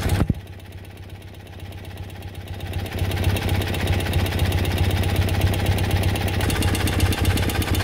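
A BMW R90/6 boxer twin motorcycle engine idles steadily up close, its even, rhythmic pulsing growing a little louder partway through and then holding a continuous beat.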